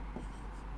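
A pen scratches briefly across paper while a math problem is being written out, short faint strokes close by with a low background hum.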